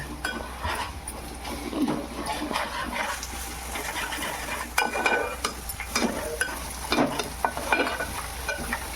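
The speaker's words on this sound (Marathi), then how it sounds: "अद्रक पेस्ट टाकून घेऊ लसूण पेस्ट पण जरा शिजवून घेऊ" Ginger and garlic paste sizzle in a pan for a chicken curry, a steady frying hiss broken by irregular stirring scrapes and occasional clatters.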